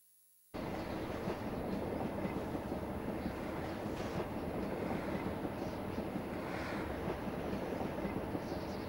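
A train rolls along steadily in a retro video game, a dense continuous rumble with rail clatter that starts abruptly after a brief silence and holds at a loud, even level throughout with no talk.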